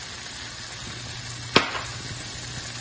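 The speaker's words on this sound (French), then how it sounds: "On va tout de suite déglacer" A hot pan used for cooking salmon, deglazed with lemon juice, gives a soft steady sizzle and a single sharp splash or clink partway through, close and without voices.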